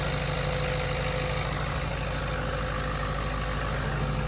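A 2013 Ford F350 6.0 Power Stroke diesel engine idles steadily up close, a low, even rumble with a constant knocking chug and no voices.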